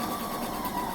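Sewing machine stitching fabric for a summer romper, a steady continuous motor whir running evenly without pause at close range.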